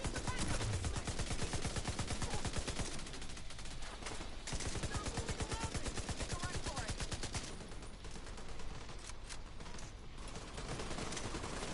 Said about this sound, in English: Everybody's shooting at it right now.